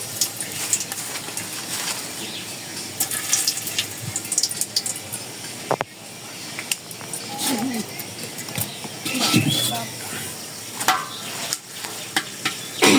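Dried red chillies and bay leaves sizzle in hot oil, a steady frying hiss with occasional stirring clatter and pops, continuing at moderate loudness throughout.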